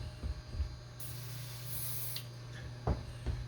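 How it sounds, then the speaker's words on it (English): Heavy duty silicone spray hisses from a can onto a tractor tire in a short, steady burst lasting about a second, framed by faint clunks and handling noises close by. "I'm back with my heavy duty silicone spray. So I'm going to use this very liberally on here"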